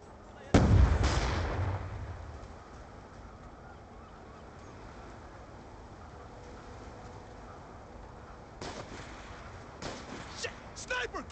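A frag grenade explodes in Call of Duty: Black Ops II gameplay, one loud close boom with a rumbling tail, followed by steady battle ambience and sporadic distant impacts, with voices heard in the game.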